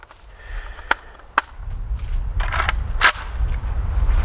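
A JTS AK12 airsoft rifle fires a handful of separate sharp cracks at uneven intervals, close and fairly loud over a rumbling background.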